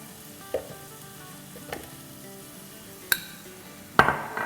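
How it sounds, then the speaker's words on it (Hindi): Onions are stirred in a frying pan with a soft background sizzle, punctuated by a few sharp clinks of a utensil against the pan, the last one followed by louder frying. "प्याज़ों को थोड़ा सा हिला लेते हैं।"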